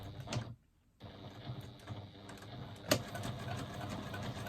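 A sewing machine runs a straight seam with a narrow 1/8-inch allowance on a fabric card slot, a steady close mechanical whir broken by one short pause, with a sharp click near the end.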